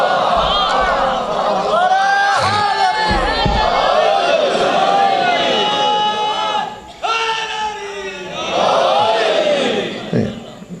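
Crowd at a religious gathering chants slogans in loud, rising and falling unison voices, two main surges separated by a brief pause, close and energetic.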